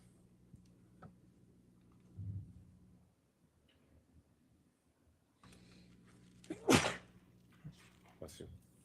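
A single loud sneeze in a courtroom during a trial, sharp and close, with quieter room noise and scattered small clicks before and after.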